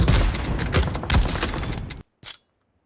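M79 grenade launcher fire in PUBG Mobile: a dense run of loud, sharp shots and booms, then a sudden cut to near silence before one last fainter crack.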